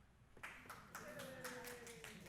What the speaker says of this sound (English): that was some nice golf clapping.